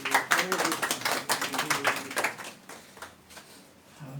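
An audience claps together for a group, a brisk patter of many hands that is dense at first and then thins into scattered claps before fading out, with a voice speaking over it.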